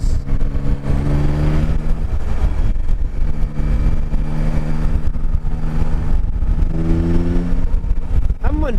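A Yamaha Tracer 9 motorcycle engine drones and pulls in fifth gear, a steady rising engine tone with wind noise, while a rider talks over it intermittently.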